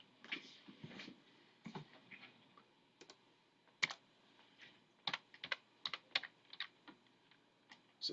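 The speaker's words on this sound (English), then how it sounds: "I'm going to type it into Desmos again." An equation is typed into the Desmos graphing calculator for a sinusoidal function: quiet, irregular keyboard clicks in short bursts and single taps, close and soft, with no speech.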